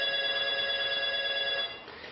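An electronic phone alarm beeps steadily with bright, high tones, fairly loud and close in a hotel room, then trails off near the end.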